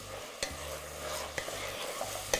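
Garlic sizzles in a hot pan, a steady frying hiss with a few sharp clicks of a utensil stirring against the pan.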